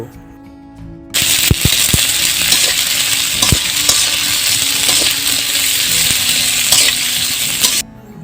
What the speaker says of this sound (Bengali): এবার আমি পেঁয়াজ রসুন আর মরিচগুলো ভালোভাবে কিছুক্ষণ নেড়ে নেব